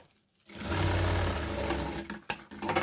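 A sewing machine stitches old cloth being reused, its motor running in a steady loud whir for about two seconds after a short quiet start, then stopping and restarting in brief bursts.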